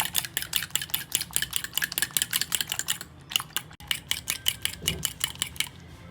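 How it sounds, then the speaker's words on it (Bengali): Eggs being beaten briskly by hand for a chocolate fruit cake, a fast steady clatter of whisk against bowl repeating in quick rhythmic strokes, close and fairly loud, with one brief pause partway through. "ডিমটা আমার এখানে ভালো করে ফেটানো হয়ে গেছে"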